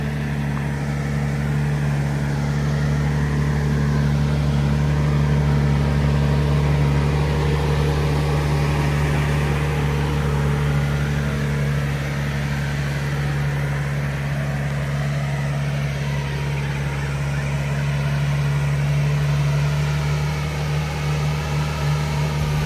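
Ferrari 812 GTS V12 with a full Novitec straight-pipe exhaust idling, a steady deep rumble with a strong low hum holding evenly for the whole stretch, no voices.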